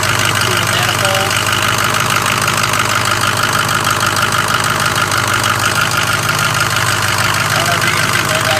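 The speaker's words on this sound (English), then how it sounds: "I can definitely hear audible air coming out through the manifold." Engine idling after a cold start, with air leaking at the exhaust manifold, gives a loud, steady low drone with a constant hissy rush layered over it throughout, heard up close with no voices.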